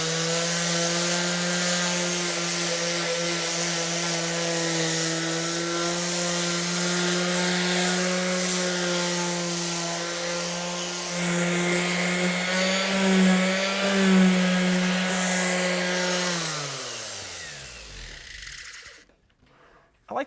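An electric power sander works wood for a simple furniture table, a loud, steady motor whine with a strong buzzing hum, then spinning down and stopping near the end.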